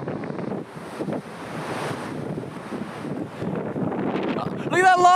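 Huge ocean waves crash and surge at Santa Cruz, California, in a rushing roar mixed with heavy wind buffeting the microphone, while people shout excitedly close by.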